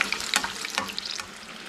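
Chicken chilly bajji sizzling and crackling in hot oil, a busy close-up fry with sharp popping bursts over a steady hiss, no voices.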